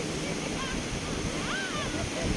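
A boat speeds across a large lake near Munnar, with constant rushing water and wind noise up close. A faint whining motor tone weaves through the roar.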